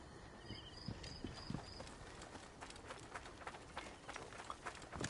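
A horse's hooves clip-clop in a steady running rhythm in the video game Assassin's Creed Origins, faint and continuous under a light ambient bed with brief chirping bird calls.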